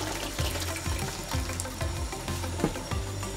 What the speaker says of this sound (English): we want to turn on cold water. We're just gonna dump it in the colander.